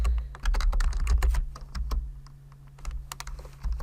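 Fast typing on a computer keyboard, a close, steady patter of crisp keystrokes with short pauses between bursts.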